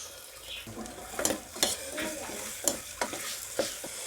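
Curry leaves crackling and frying in a pot for mutton bone soup while being stirred, with a busy sizzle broken by repeated scraping and clanking spoon strokes close by.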